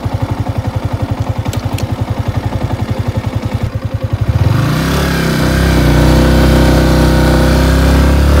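A trail motorcycle rides off-road, its engine thumping in a steady rapid pulse, then revving up into a louder, sustained drone that holds to the end.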